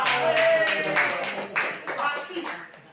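An audience at a business seminar gives a short burst of scattered clapping that fades quickly. Speech runs over it.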